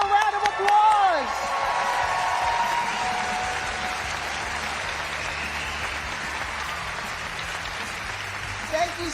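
Audience applause for award recipients at the 2024 James Beard Restaurant and Chef Awards ceremony, a broad, steady wash of clapping with a few whoops from a large hall crowd, opening under a brief announcer voice and then sustained throughout.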